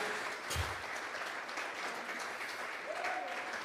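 A church congregation at a Sunday service claps together in a steady, dense round of applause, moderately distant and continuous for a few seconds with no voices over it.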